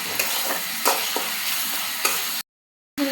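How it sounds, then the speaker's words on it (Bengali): Spice paste with tomato is stir-fried in a pan, giving a continuous sizzle broken by regular scraping strokes of a spoon, then a brief silence before the sizzle returns. "মশলাটা ভালোভাবে কষিয়ে নেব।"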